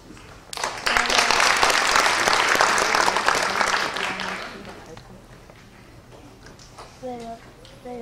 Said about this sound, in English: She will be proud of your big applause.